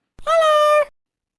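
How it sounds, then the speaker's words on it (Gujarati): A Minecraft panda gives a single short, cat-like mewing call, clear and close, about half a second long and alone without talk. "પાંડા તો મીંદડી જેવો અવાજ કાઢે છે"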